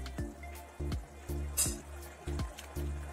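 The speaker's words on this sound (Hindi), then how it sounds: "थोड़ा और पानी ऐड करेंगे। मैं यहाँ नॉर्मल पानी का यूज कर रही हूँ।" Plain water poured into a pan of simmering vegetable Manchurian gravy over a medium flame, giving close, regular glugging liquid pulses about twice a second with a soft wet sputter between them.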